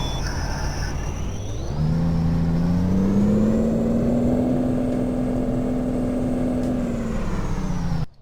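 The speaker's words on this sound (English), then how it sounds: "this is Cummins ISX 750 horsepower. Let's see how this sounds." A Cummins ISX 750-horsepower truck engine in a Peterbilt 389 in Euro Truck Simulator 2 rises from idle into a loud, steady, deep diesel drone, holding for several seconds before cutting off abruptly.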